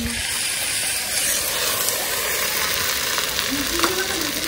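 Tempering spices sizzle and crackle in hot oil for khichuri at an outdoor winter picnic, a steady close frying hiss with faint clinks, voices murmuring in the background.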